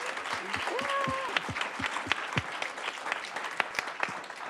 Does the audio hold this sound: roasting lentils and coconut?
no